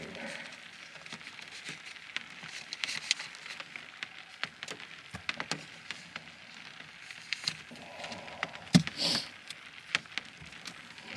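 Steady light patter of rain on a surface with scattered sharper drips and taps, continuous and close, with no talking.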